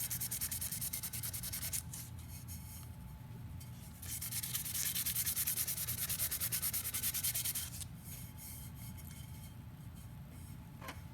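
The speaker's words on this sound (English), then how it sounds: "You can see when I sand, it takes a little bit of the shine, makes it dull." Cured glitter epoxy coating being sanded by hand, a steady close scratchy rubbing that surges louder in passes and then eases, with no voices present.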